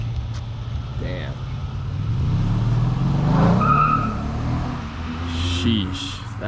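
A lowered Mercedes-Benz CLS 550 accelerates hard, its engine note climbing and swelling to a peak before easing off, with a hint of tire noise over a rough, close-up rumble.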